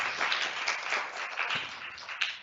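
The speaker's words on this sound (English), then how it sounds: "I don't think anyone will mind if we give them a quick clap in the chapel" A short burst of audience clapping fills a chapel, many hands applauding at once, dense and fairly close, lasting only a couple of seconds with no talking over it.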